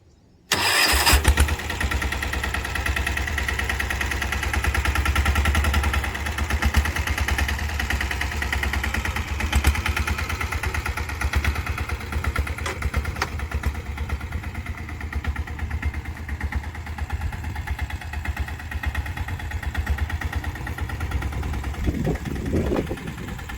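A tractor engine ploughing a groundnut field starts abruptly, then chugs along for over twenty seconds in a steady, rumbling, mid-pitched drone that stays fairly close, with no talking.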